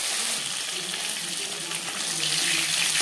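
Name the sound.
Bhola fish frying in a pan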